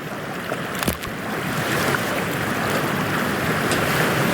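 Ocean water sloshing and surging after a character jumps into cold water in Cyberpunk 2077, a loud continuous wash of splashing and surf with a few sharp impacts near the start.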